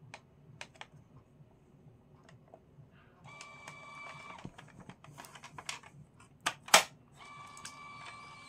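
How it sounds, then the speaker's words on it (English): A Brother P-touch E300 electrical label printer prints a label with faint whirring and ticking, punctuated by sharp clicks and a louder snap near the end, quiet and close by. "Let's try printing a sample label now."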